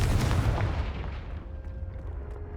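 A Confringo fire-blast spell explodes in Hogwarts Legacy, giving a loud, booming burst that fades into a rumbling tail over a couple of seconds.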